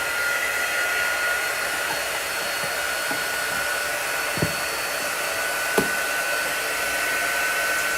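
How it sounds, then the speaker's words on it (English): A quick-dry tool blows air over freshly painted nail polish, giving a steady, even whoosh of moderate loudness with two faint clicks partway through and no talking. "We can take our quick dry tool and get that"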